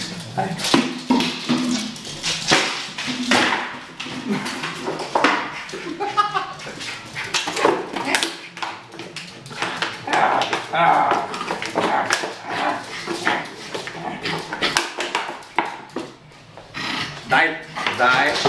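A Jack Russell terrier barks in sharp bursts and whimpers in between while people talk over it excitedly, with taps and scuffling throughout a busy, close indoor scene.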